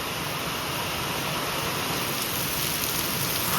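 Heavy rain pours down in a dense, continuous hiss that stays loud and even from start to finish, with no voices.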